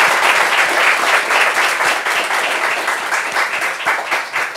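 A studio audience applauds the guests of a talk show with steady, dense clapping that continues throughout and swells and dips slightly, with no voices over it.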